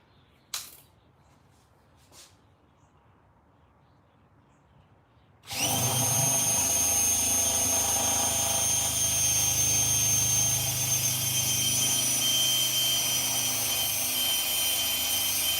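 A power drill starts abruptly after a few quiet seconds and a couple of faint clicks, then runs at a loud, steady, high whine as it bores into a metal emblem badge.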